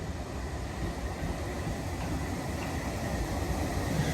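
A six-car passenger train passes on a suburban line, a steady broadband rumble and rushing roar at moderate distance, even in level throughout with no voices.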